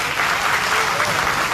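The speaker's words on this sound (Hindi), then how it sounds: "एक बार ताली बजा के बताओ।" A live audience at a meditation guru's talk breaks into steady, dense applause, loud and close, filling the room without pause.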